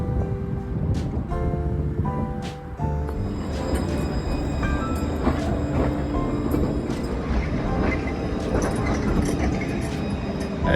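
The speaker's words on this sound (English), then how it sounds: "It's a tram." A tram passing through Bordeaux, a loud, continuous rumble with whining, tonal motor and wheel sounds rising and shifting as it goes by close, steady over about ten seconds with no speech.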